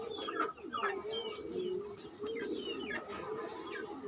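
Pigeons coo softly in repeated low, throaty rolling calls, several birds overlapping close by with faint chirps in the background.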